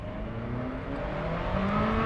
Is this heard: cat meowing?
no